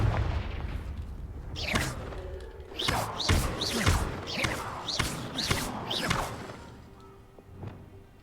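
Confringo fire-blast spell being cast repeatedly in Hogwarts Legacy, a series of six or seven sharp whooshing bursts with booming impacts in quick succession, loud and close over a low rumbling game ambience.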